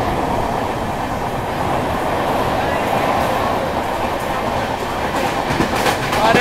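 High-speed trains run past a platform, giving a loud, steady rumbling roar of rolling wheels with clickety-clack over the rail joints, close and continuous.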